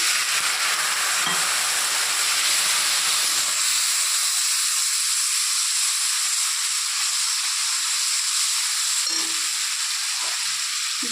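Water poured into a hot pan gives a loud, steady steaming hiss and sizzle that runs unbroken for about eleven seconds, close up with no voices over it.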